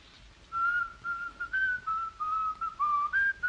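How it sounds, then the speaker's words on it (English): A melodic tune is whistled alone in the night: a single clear, fairly quiet whistle carrying a wavering phrase of short connected notes with brief breaths between them. "First, a scrap of music whistled in the night."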